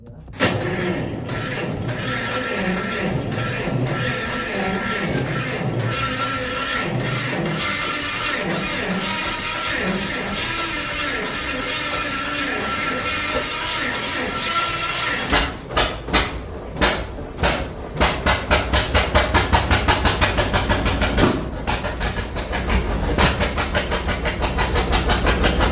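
A John Deere Model D two-cylinder tractor engine starts with a steady, heavy rumble, then settles into loud, rhythmic popping beats through the second half.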